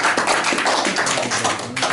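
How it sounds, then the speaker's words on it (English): A room of diners at a club charter Sunday lunch gives a round of applause, steady close clapping from a modest crowd filling the whole short stretch. "So would you please give him a round of applause"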